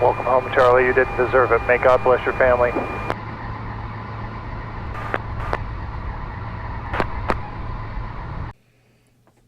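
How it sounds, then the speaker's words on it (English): Someone speaks briefly, then an airliner landing at Phoenix airport gives a steady, fairly loud jet roar with a few sharp clicks before cutting off abruptly. "That was the airplane that carried Charlie Kirk's deceased body back to"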